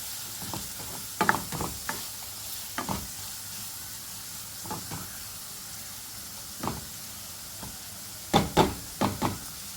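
A filling of ingredients for Ramadan snacks sautés in a pan, a soft continuous sizzle punctuated by irregular sharp knocks and scrapes of a spatula stirring against the pan.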